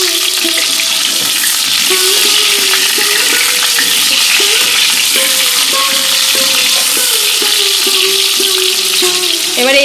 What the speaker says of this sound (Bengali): এবার এই তেলের মধ্যে দিয়ে দেবো এই আলুগুলো ভাজতে।